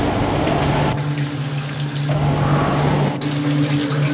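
Water runs steadily from a shower fed by an electric heater, a constant loud hiss and splash with a low hum that cuts in and out twice.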